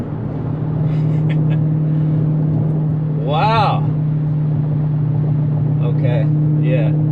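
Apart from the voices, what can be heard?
tuned Redeye car engine roaring while driving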